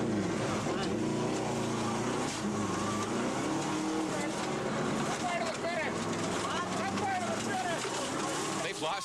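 A rally car at the 1997 Rallye Baies des Chaleurs claws its way out of a farmer's field past parked spectator cars, engine droning and revving up and down under continuous commentary.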